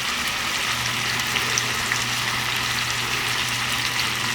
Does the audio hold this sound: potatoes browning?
yes